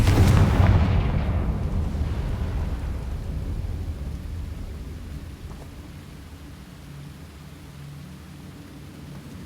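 A Confringo spell explosion from the video game Hogwarts Legacy: a heavy, booming blast at the start that rolls off into a long, rumbling decay and low, fading debris noise, with no speech.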